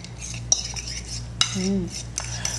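Seasoned lamb tartare being mixed in a bowl with cutlery, giving a few sharp utensil clinks and scraping sounds over a low steady hum, close and fairly quiet.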